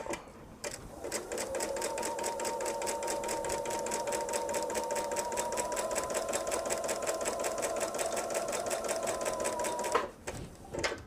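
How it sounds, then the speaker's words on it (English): A sewing machine joins quilt pieces for a patriotic nine-patch quilt, running at a steady, even pace for about ten seconds. The rapid needle rhythm is close and clear before it stops, leaving a little handling noise. "Get a pin in there so we don't have to worry about them slipping. And now we're going to sew."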